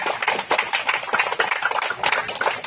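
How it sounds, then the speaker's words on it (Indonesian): Church congregation at a Catholic thanksgiving Mass applauding the parish volunteers: a steady patter of many hands clapping together, fairly close and lively, with no voices over it. "tepuk tangan untuk mereka"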